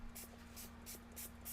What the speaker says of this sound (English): And then you can spray on top.